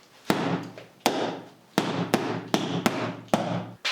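Repeated hard strikes with a handheld self-defense weapon, seven sharp loud impacts each followed by a short ringing decay, spaced irregularly under a second apart, close up with no talking.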